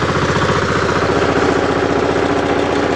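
A tractor engine runs steadily close by while ploughing a field, a loud continuous throbbing drone with no pauses.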